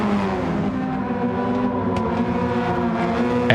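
A gray Hyundai Elantra race car in a racing video game, its engine droning steadily at high revs with a sustained, close, loud tone that holds without breaks.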